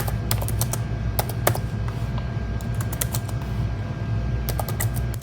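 Rapid clattering keystrokes on a cheap, flimsy, padded laptop keyboard come in quick bursts over a steady low background hum, close and fairly loud.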